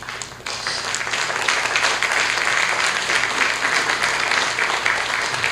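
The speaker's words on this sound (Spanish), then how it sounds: "Vamos a recibir al doctor San Martín, por favor, con fuertes palmas." A seminar audience at the Pontifical Catholic University of Peru applauds to welcome a speaker, giving loud, close, continuous clapping from a large crowd that holds at an even level throughout.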